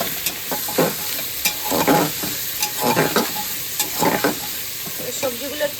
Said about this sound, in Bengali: এবার আমি একটু ভালো করে নাড়িয়ে দিচ্ছি।